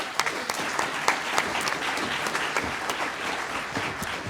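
An audience applauds debate panelists with dense, sustained clapping at close range that stays even and full for several seconds, with no voices.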